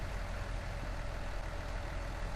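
A Steiger articulated tractor engine idles in the Farming Simulator 19 game, a steady, dense, low rumble that holds constant and loud throughout with no variation.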